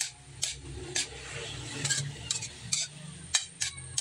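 Adobong sitaw with oyster sauce being stirred in a pan, with sharp rhythmic clinks and scrapes of the utensil against the metal over a low, steady sizzle, nearby and without speech.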